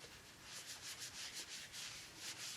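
A dogwood natural-edge bowl is buffed with Axe polishing paste, giving a soft, steady rubbing hiss with gentle rhythmic strokes, faint and close, with no voices.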